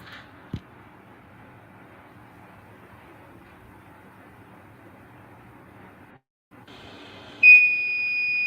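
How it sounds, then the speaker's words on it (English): An IoT water level alarm with an ultrasonic sensor sits quiet under a low hum, then near the end starts a loud, steady high-pitched electronic beep that holds without a break. "Here you can able to get the beep sound when the water level is about 90 degree"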